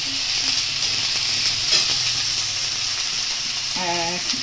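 Potato, capsicum and tomato frying in a pan, a loud continuous sizzle with steady hiss and a brief stirring scrape near the end, close and without talk.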